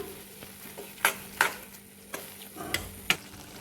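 Flour roasting in ghee in a pan for maida barfi gives a soft, close sizzle, broken by several sharp scrapes and clinks as a spoon stirs against the pan, with no talking.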